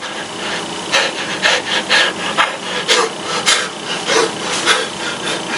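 Two pieces of wood rubbed hard together in an attempt to make fire, a close, loud rhythmic rasping of repeated strokes with no talk.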